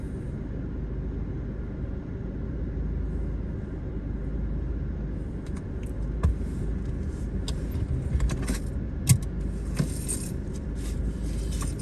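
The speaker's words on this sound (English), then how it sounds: "My car keys." Car keys jangling in a hand inside a moving car, bright metallic clinks and rattles scattered through the second half over a constant low road and engine rumble.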